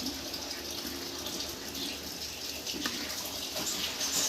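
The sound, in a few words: broken rice boiling in a pot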